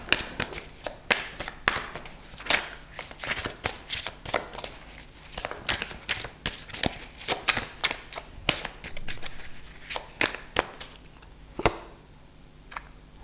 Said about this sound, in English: Cards want to shuffle.